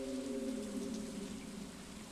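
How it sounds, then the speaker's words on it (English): Rain patters steadily in the farming video game Stardew Valley, a soft hiss layered over a low sustained musical drone, with no talking. "It's a rainy day"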